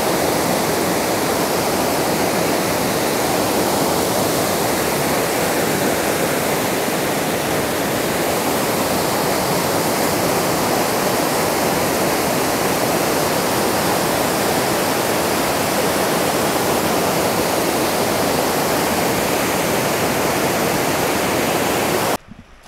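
At Temperance River State Park a river rushes loudly, a dense, unbroken roar of churning water heard up close, steady for over twenty seconds before cutting off abruptly.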